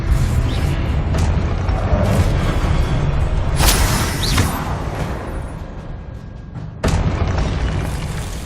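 A spell is cast in the Hogwarts Legacy video game, with booming magical bursts and crashes over a busy game soundtrack, two sharp loud blasts standing out near the middle and near the end.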